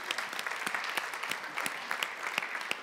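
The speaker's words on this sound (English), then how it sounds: "let's give Chris another round of applause" Audience applause at a creative financing business seminar, a steady wash of clapping from a room of attendees with a few sharper individual claps standing out, moderately loud and continuous throughout.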